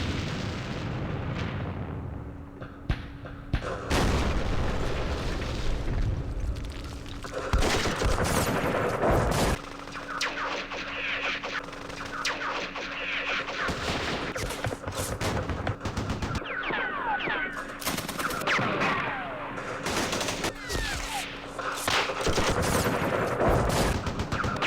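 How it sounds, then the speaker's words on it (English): Viet Minh artillery fire in the Vietnam war game Campaign Series Vietnam, set at Dien Bien Phu: a dense, continuous barrage of booming shell blasts and rattling gunfire, loud and sustained with overlapping impacts throughout. "Frickin' Viet Minh artillery, holy,"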